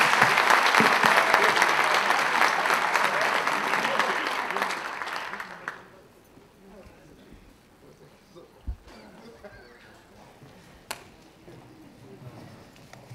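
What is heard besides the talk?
audience applauding a conference panel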